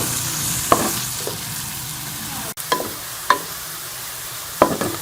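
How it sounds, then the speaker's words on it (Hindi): Steady frying hiss from onions in a pan with a few sharp clanks of a spoon scraping and stirring, close up, no talking. "इसमें हम प्याज शामिल डालेंगे और प्याज को लाइट गोल्डन डालेंगे।"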